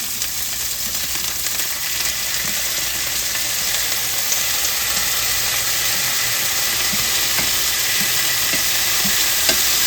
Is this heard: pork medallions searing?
yes